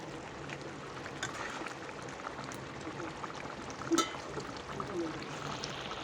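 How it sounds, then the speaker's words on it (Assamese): Pork simmering with tomato, ginger, garlic and spices in a pot, a quiet steady bubbling and hissing with small pops, heard close and alone. "দেখিছে নহয় ইমান ধুনীয়াকৈ উতলি আছে"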